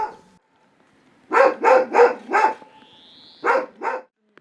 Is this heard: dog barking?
yes